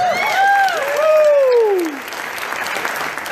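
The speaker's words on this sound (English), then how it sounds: "Give a big round of applause" Audience applause during a keynote talk, a crowd clapping under a loud speaking voice that fades out partway, leaving the steady clatter of many hands.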